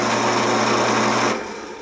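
Hole saw cutting into a half-inch steel plate, a loud steady high-pitched grinding whine with a constant drone that drops in level toward the end, alone with no talk.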